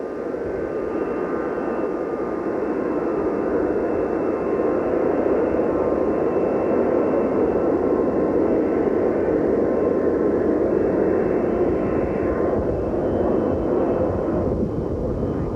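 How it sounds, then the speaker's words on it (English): A commercial jet roars during takeoff at Love Field in Dallas in 1963, a loud, broad, sustained rumble and whine that swells slightly and stays constant throughout, with no voices over it. "the noise you hear in the background is that of a commercial jet going out to take"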